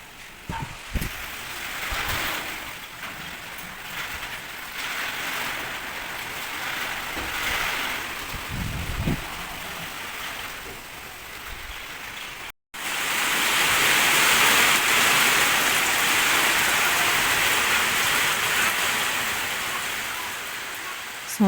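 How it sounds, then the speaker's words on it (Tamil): Strong wind and rain roar outdoors over a garden of flowering plants, a broad continuous wash of noise that swells louder partway through, with no voices heard. "இப்பயே மழை காற்று சரியான காற்றடிக்க ஆரம்பிச்சிருச்சுங்க"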